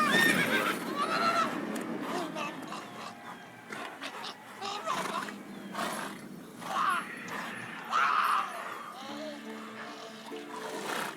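Roach the horse whinnies and neighs in the video game The Witcher 3, with hoof clops and game ambience, while a voice talks over it.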